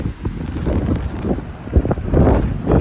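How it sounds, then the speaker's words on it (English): Steady, gusty wind buffets the microphone on the Armitage elevated station platform in Chicago, a wooden train platform overlooking Armitage Avenue, roaring continuously and close with rising gusts and no speech. "Boy, is it windy."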